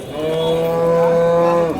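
At Vaniyambadi cattle market, a single loud, close cow moo sustains steadily for nearly two seconds with a rich, drawn-out tone.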